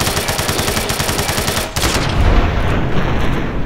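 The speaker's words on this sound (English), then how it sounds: "I guess I'm gonna shoot you." Rapid automatic gunfire in Fallout New Vegas, a fast string of loud, evenly spaced shots that cuts off briefly and gives way to a dense, booming burst.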